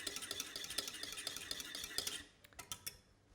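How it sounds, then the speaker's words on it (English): A whisk clinks and scrapes quickly and steadily against a pan as egg yolk is beaten into a warm goat's cheese sauce off the heat. The strokes are close and fairly loud, then thin into a few sparser taps near the end. "drop it in, and then whisk it"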